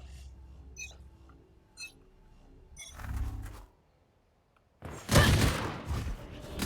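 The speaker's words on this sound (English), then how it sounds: "Fiction getting some early shots off towards Breen" Gunfire from the video game Valorant during a pistol round: scattered faint clicks and a muffled burst, then after a brief silence a loud close volley of shots with ringing impacts.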